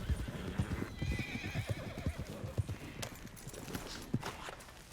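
Horses in Red Dead Redemption 2 clip-clop at a walk with steady hoof thuds, while one horse lets out a drawn-out whinny partway through.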